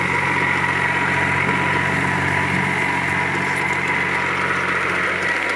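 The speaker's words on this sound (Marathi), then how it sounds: "पण टोटल ओल्या रानामध्ये ट्रॅक्टर चालू आहे कंटिन्यू." A Swaraj Target 630 compact tractor with a narrow three-foot width runs continuously in a wet, muddy field, its engine a steady, close drone with an even mechanical hum and no talking.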